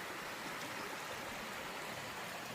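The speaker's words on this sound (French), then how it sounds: "Là il y a le petit cours d'eau" A small stream flows beside a small stone mill in the French countryside, giving a steady, soft, continuous rush of water with no voices.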